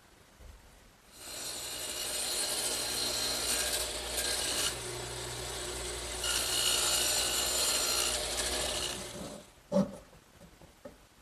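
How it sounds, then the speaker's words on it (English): A radial arm saw fitted with a dado head cutter bites through wood for a chair tenon, a loud steady whining cut running about eight seconds with a brief dip midway, then spinning down with a sharp knock at the end. "I'll cut the thickness using my radial arm saw and the dado head cutter"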